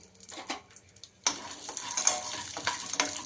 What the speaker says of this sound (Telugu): ఒక ఎనిమిది ఏడు పచ్చిమిర్చి తీసుకుందాం స్టవ్ హైలోని పెట్టుకొని మనం ఫ్రై చేసుకుందాం